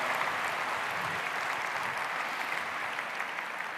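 Steady, even audience applause fills a large hall during a motivational talk, continuous and fairly full without pause, with no voices over it.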